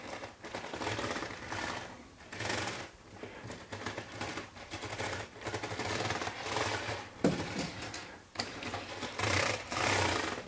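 Motorized LEGO Technic 42148 tracked excavator model running, a continuous buzzing whir of small motors as the superstructure rotates and the boom and bucket move, with brief clicks and surges in between, close and alone.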